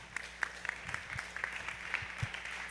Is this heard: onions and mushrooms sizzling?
no